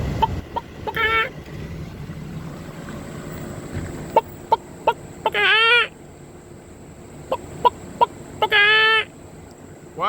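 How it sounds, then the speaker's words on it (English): A rooster makes three loud, drawn-out calls, spaced several seconds apart, with sharp clicks and taps in between. No voices can be heard over the quieter ambient background. "That ain't a chicken, that's a rooster."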